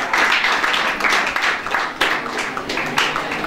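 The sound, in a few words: audience applauding a student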